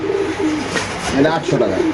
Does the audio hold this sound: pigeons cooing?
yes